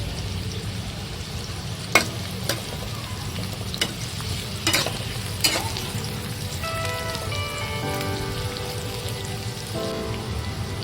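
Finely chopped medium onion frying in oil in a kadhai, a steady close sizzle with several sharp clinks and scrapes of a stirring spoon, no talking.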